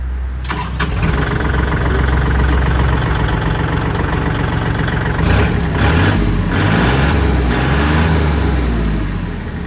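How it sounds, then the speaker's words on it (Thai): A Kubota L4018SP tractor from 2022 starts and is revved hard, its diesel engine roaring loud and close throughout with surging bursts of throttle over a constant rumble. "เดี๋ยวสตาร์ทให้เบิ้งนะครับ"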